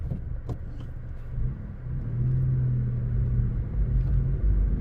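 Six-speed manual car pulling away in first gear, a low engine rumble and drone building steadily as it accelerates, heard from inside the cabin with no talking.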